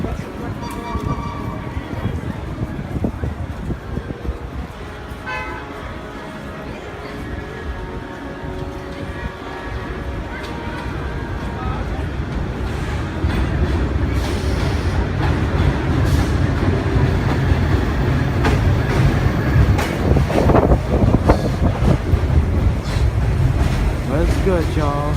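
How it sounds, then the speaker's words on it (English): Vintage New York City subway cars, R1 and R9 types on a BMT Brighton line fan special, roll into a station with a rumbling, swelling roar that grows louder and closer in the second half, over crowd chatter and voices. "Train is arriving now."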